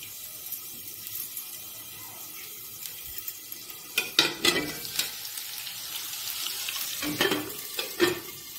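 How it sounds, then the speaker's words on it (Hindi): Onions fry in hot oil with a quiet, steady sizzle, broken by louder bursts of crackling and stirring around the middle and again near the end. "हम तेल पकईदेली तापर पियाज पकईदेली"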